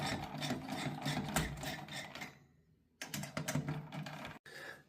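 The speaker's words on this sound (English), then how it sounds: "I'm going to unscrew all the screws in the corners." Screws come out of the corners of a Thermalright Assassin X 120 Refined SE CPU cooler fan with a close, buzzing whir in bursts. One pause falls midway, then the whirring resumes and cuts off briefly near the end.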